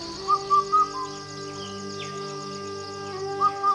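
A Kumaon bird's call from Uttarakhand comes as three quick clear notes, repeated after a pause, set over a steady sustained musical drone.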